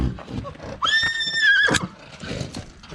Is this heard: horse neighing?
yes